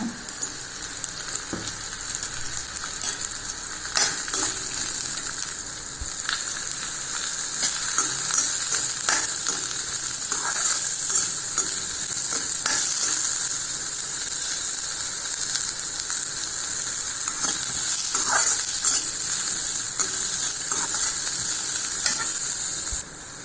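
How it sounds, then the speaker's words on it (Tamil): Bitter gourd pieces sauté in a little oil in a pan for sambar, a continuous loud sizzle and hiss broken by repeated sharp scrapes and clacks of a spatula stirring, with no voices. "கொஞ்சோண்டு எண்ணெய் ஊற்றி இந்த பாவக்காயை நம்ம வதக்கிடலாம்"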